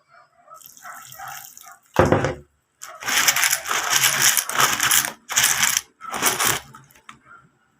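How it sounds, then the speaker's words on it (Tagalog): Water is poured over copper-nickel coins set in a container to rinse off dishwashing soap after two hours of tumbling, giving several loud bursts of splashing and trickling with rattling coins and brief quiet gaps between pours. "Tapos buhusan natin ng tubig."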